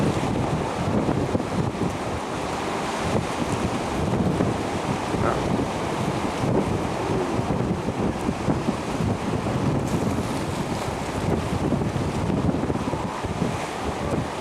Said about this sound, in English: It's a big wave.